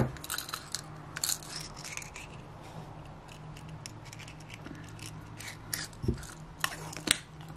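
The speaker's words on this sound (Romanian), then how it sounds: "O tai aici firul." Scissors snip through wool yarn while a ribbed knit hat is being finished. A few soft, sharp cuts stand out faintly over a low steady hum.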